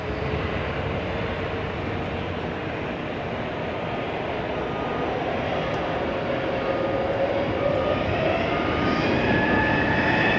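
Airliner taking off at night from runway 18 right at DFW Airport, a loud sustained jet engine roar with a rising whine that holds steady and slowly swells, no speech over it.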